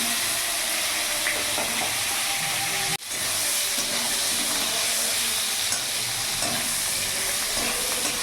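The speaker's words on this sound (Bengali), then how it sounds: "এরই মধ্যে এবার কেটে রাখা বেগুনগুলো ভেজে নেব।" Cut eggplant (brinjal) pieces frying in hot oil in a pan, a loud continuous sizzle and hiss close up with a sharp clatter of stirring near the start.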